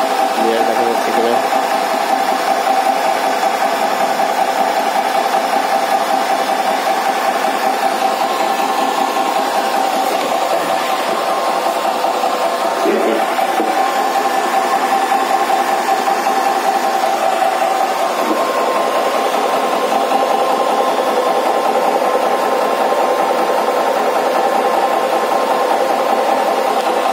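A Tuxing 12V electric pump runs steadily with a constant motor whine and hum, close and continuous for the whole stretch, with no clear talk.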